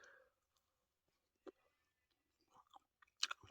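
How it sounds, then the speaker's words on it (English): Someone outdoors at a wild camp takes quiet bites of a burger on a chewy Glasgow roll, giving a few soft, sparse chewing and biting sounds close by amid near silence. "I'm just going to crouch and eat this."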